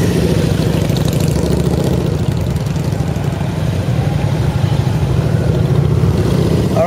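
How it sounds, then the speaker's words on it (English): A motorcycle engine revving while the rider slips the clutch during low-speed offset cone weave practice in a parking lot, a steady loud mid-low drone that rises and holds for several seconds with no talking. "Throttle up, throttle up."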